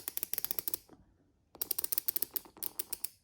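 Ratcheting of a BOA dial on a Solid Gear Revolution 2 work shoe as the cables tighten, heard up close as rapid bursts of crisp clicks with a short pause between turns.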